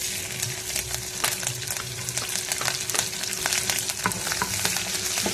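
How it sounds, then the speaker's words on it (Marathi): Chopped green chillies frying in hot oil with mustard seeds and cumin, a steady loud sizzle with crackling pops and occasional stirring scrapes throughout. "आता या हिरव्या मिरच्या कापलेल्या आपण त्याच्यात टाकू."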